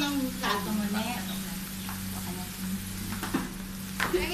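Food sizzles softly in a Salad Master pan seasoned with garlic powder during a cooking demonstration, a low steady frying hiss with occasional clicks and utensil taps, while people talk nearby.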